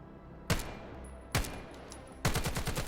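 A Vector submachine gun in the VR shooter Vail VR fires three sharp bursts, each a quick rattling volley, close and loud with short pauses between them.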